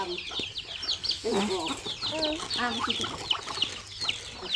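Chickens cluck steadily on a Thai farm where ducks and chickens are raised, with several birds making overlapping, fairly close calls that run continuously throughout.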